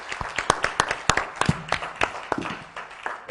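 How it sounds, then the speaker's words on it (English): Scattered applause from a small audience at a blockchain workshop for presenters: sharp individual claps, fairly near, uneven and thinning out toward the end. "I think they deserve our applause"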